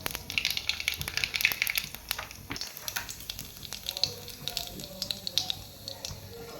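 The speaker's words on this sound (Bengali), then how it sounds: "তেলটা গরম হয়ে গেছে, আমি এর মধ্যে 1 চামচ কালো জিরে ফোড়ন দিচ্ছি।" A spoonful of nigella seeds (kalo jeere) tempering in hot oil, steady close crackling and spitting with dense tiny pops throughout, moderately quiet, without any talking.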